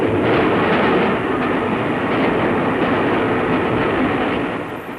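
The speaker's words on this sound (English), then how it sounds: "now, at this moment, LMS trains are starting on their journeys" An LMS train from 1939 gets under way with a broad, steady rumble of wheels and engine noise that fades slightly toward the end, no voices.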